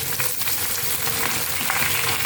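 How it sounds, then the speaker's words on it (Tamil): Shallots sizzle steadily in a hot pan, a constant crackling fry with no voices. "இந்த மாதிரி அதை போட்டு இதில் வதக்கணும்."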